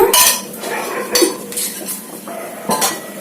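A metal spoon works through ragi mudda mixed with ghee in a pot, producing close, loud scrapes and clinks against the vessel in a few separate bursts, with no talk over them.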